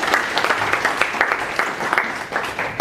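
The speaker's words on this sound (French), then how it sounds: "Applaudissez Henri s'il vous plaît." An audience at a student welcome and information day applauds a student, a steady burst of many hands clapping close by that lasts about three seconds.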